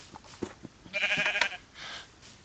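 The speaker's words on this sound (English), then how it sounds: "There's a lot of sheep here." Sheep bleating in a Minecraft-style blocky video game, several drawn-out, wavering bleats in a row, fairly close and clear with no talk over them.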